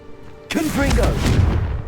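A Confringo blasting spell in a video game bursts with a sudden sharp blast after a short quiet lead-in, followed by rumbling debris and tonal whooshing, while a voice is heard in the mix.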